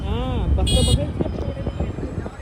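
Heavy street traffic with a car horn honking briefly near the start, over a steady roadway rumble and engine noise, with people talking throughout.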